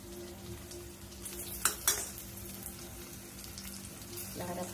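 Potatoes with salt and turmeric, cooked for batata poha, frying and stirred in a pan: a faint, soft sizzle with two quick scraping clinks partway through and light stirring noise toward the end.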